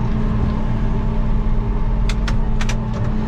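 A 145 hp tractor engine runs at 1200 rpm while plowing a field, a loud, close, steady low rumble with a few faint clicks near the end.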